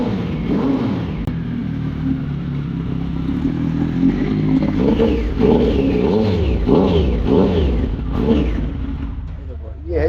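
Triumph Speed 1050 naked motorcycle engine revving loudly with a deep, throaty rumble that swells and surges in repeated bursts, close by, with a voice talking over parts of it.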